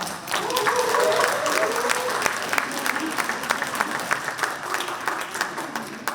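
Applause from a seminar audience greeting a group of officers, a full burst of crowd clapping that peaks early and then tapers, with some murmuring voices mixed in.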